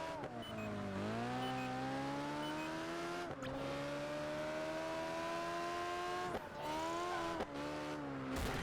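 A race car in Project Gotham Racing 4 screams through the gears, its loud engine note climbing steadily, then dropping with each shift and climbing again, close and continuous.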